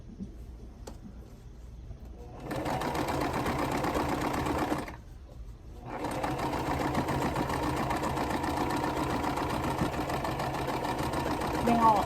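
An Eversewn sewing machine stitches a quilt in a steady, fast mechanical whir, running a few seconds, pausing briefly, then resuming for a longer continuous stretch, close and clear with faint talk at the start.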